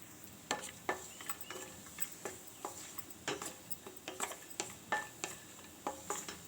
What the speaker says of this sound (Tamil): இப்போது ஒரு 6 முந்திரி பாதாம் பருப்பை தட்டி வச்சுருக்கேன், அதையும் போட்டு நல்லா வதக்கி எடுத்துக்கிடுவோம்.